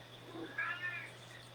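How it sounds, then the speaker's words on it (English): A house cat meows twice in quick succession, a short mid-pitched cry followed by a brighter, longer wail, heard faintly indoors over a steady electrical hum. "Can you hear that cat meowing?"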